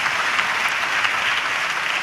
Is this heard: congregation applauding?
yes